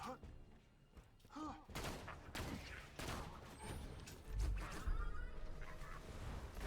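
Gunfire from a shooter video game with a weapon called the Iron: a burst of rapid shots fired through one magazine, sharp cracks that are moderately loud and mixed with game effects and someone talking over them.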